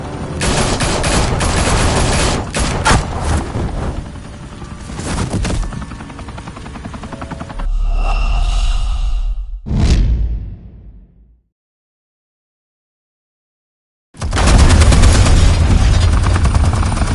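Gunfire in the video game Batman: The Telltale Series comes as loud, dense bursts of automatic fire and booms, then a sharp shot, a lull into silence, and a renewed roaring volley at the end.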